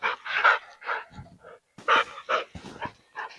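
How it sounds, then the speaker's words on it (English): Dogs fighting nearby, with bursts of snarling, yelping and panting in rapid uneven clusters separated by short pauses, loud and close. "The dogs are fighting."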